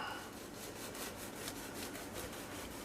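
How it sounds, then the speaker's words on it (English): Knife cutting through smoked bologna into thick slices, a soft close sawing rasp in repeated quick strokes, quiet and with no voices. "I'm going to cut it kind of thick. Probably half, 3/4 inch slices."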